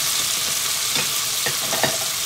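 Chicken sautés in a pan with a dense, even sizzle and a few light scrapes from stirring, close up with no talking.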